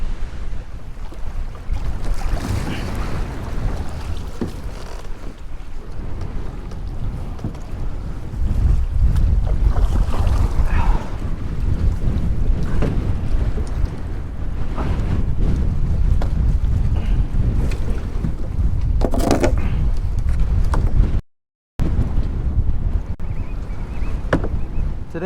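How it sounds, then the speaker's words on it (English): Strong, gusty wind roars and buffets the microphone during kayak fishing off Freeport, Texas, with water lapping and sloshing underneath and one brief dropout. "Oh my gosh, boys, that wind is nuts."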